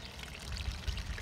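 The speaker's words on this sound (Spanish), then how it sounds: "por eso está corriendo el agua" Water runs continuously from an electrically powered pump in a fish pond planter holding a cuna de Moisés plant set among stones, a steady close pouring splash with no talk.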